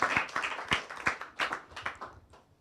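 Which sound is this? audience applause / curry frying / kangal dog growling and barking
audience applause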